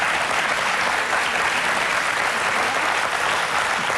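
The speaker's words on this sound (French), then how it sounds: "vous pouvez encore l'applaudir quand même" On a 1999 French television talk show, a studio audience claps for a guest, Sandrine, with full, unbroken applause held at an even, fairly loud level throughout.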